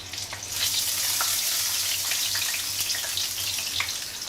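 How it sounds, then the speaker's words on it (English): Food deep fries in hot oil with a loud, steady crackling sizzle and scattered pops, continuous and close, over a faint low hum and no talking. "I think deep frying these may have not been the best idea."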